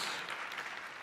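Faint audience clapping at a tech conference talk during a livestreamed event, a short soft patter of scattered applause in a large room.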